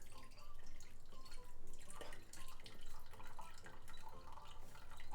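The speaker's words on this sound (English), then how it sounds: "You don't need to drain, you just pour it out." Water pouring out of a pot of cooked telline clams in uneven splashing glugs, quiet and close, with a few drips as the flow tapers.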